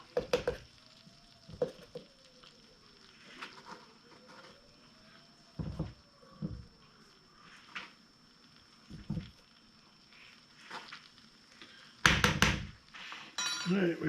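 Flour goes into the chicken and sausage fat left in a jambalaya pot and gets stirred, with a faint sizzle under sharp metal scrapes and clinks of a spoon against the pot, arriving in irregular bursts.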